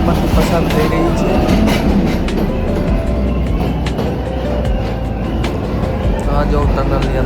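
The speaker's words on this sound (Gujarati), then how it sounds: "ટ્રેન હવે ટનલમાંથી પસાર થઈ રહી છે." Patalpani–Kalakund heritage train rolls through a tunnel, a loud enclosed rumble with rhythmic clickety-clack of wheels on rail joints, echoing and continuous throughout.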